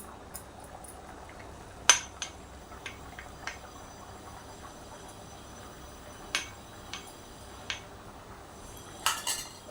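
A lid goes onto a pot of pond-fish curry on the stove: one sharp metallic clink stands out, then several lighter taps and clatters of cookware, all moderately close and quiet, with no talking.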